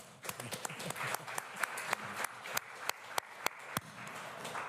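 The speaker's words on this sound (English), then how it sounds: "Give him a round of applause." Conference audience applauding a presenter named Nathan at a healthcare status event: a sustained wash of many hands clapping, with sharper individual claps standing out through the burst.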